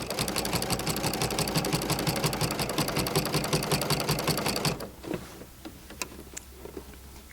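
A sewing machine fitted with a walking foot stitches quilt binding through thick layers in a steady, rapid mechanical run, then stops abruptly near the end, leaving quiet handling clicks.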